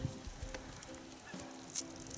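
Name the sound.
geese honking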